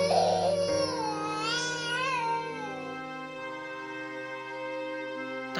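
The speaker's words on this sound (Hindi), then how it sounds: "तभी उन्हें एक छोटे बच्चे की रोने की आवाज सुनाई देती है।" A small child cries in an animated Hindi story set in a forest, a loud wavering wail with rising and falling sobs that gradually trail off into a sustained whimper.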